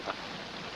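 Heavy rain falls in a steady, even hiss during a downpour on a western ranch, with one brief louder patter near the start and no voices.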